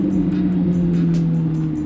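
Chevrolet Corvette Z06 cruising with a steady, low engine drone and even exhaust hum heard from inside the cabin, sustained without a rev change, with faint high-pitched ticking or chirps pulsing above it.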